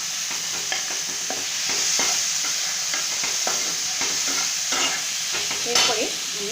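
Paneer frying in a pan, stirred with repeated spoon scrapes over a steady hiss of sizzling oil, close and fairly loud with no talking.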